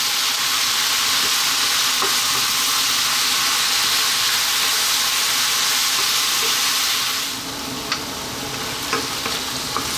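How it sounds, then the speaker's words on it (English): Spinach for a chicken pasta sizzles and cooks down in a pan, a loud, dense, continuous hiss of frying that eases slightly near the end, with faint stirring clicks. "The spinach will reduce down as it cooks."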